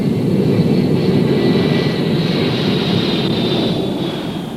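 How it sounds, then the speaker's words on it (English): An EC-135C jet Stratotanker flying from Offutt Air Force Base, its engines a loud, steady broadband roar with a thin high whine on top, fading slightly toward the end, with no voices. "Looking Glass missions are flown from Offutt Air Force Base by EC-135C jet stratotankers."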